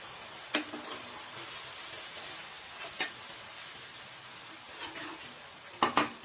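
Ginger and garlic fry in a pan over raised heat, giving a faint, steady sizzle broken by a few soft stirring clicks and scrapes, louder near the end.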